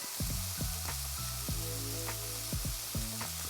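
Pork chops searing in a hot frying pan give a steady, close sizzle, with repeated low knocks as the meat is pressed or shifted against the pan.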